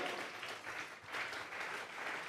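Congregation at a Sunday morning church service claps steadily as an offering of praise, a dense, continuous wash of many hands with gentle swells throughout.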